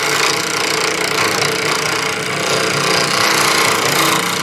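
A wood lathe turning a wooden sphere makes a loud, continuous, broadband roar of spinning stock and a cutting tool taking light cuts. The noise stays steady and close throughout, and no voices are heard.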